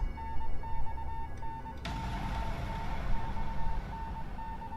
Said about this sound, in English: Beeping becomes gradually louder, almost as if it's trying to tell me something.